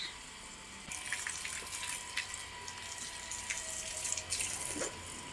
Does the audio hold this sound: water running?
yes